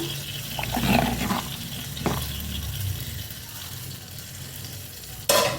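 Hot fried garlic tempering poured into a simmering okra tamarind curry, with stirring and a steady sizzle and then a sharp, loud hiss near the end.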